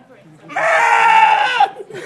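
A sheep gives one sustained, nasal bleat lasting about a second, close and loud in an outdoor setting in Wales, with a faint background before and after.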